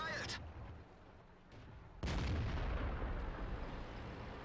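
Two heavy tank cannon blasts in World of Tanks boom loudly, the second followed by a long rumbling roar of noise, with a brief whistle-like tone at the start.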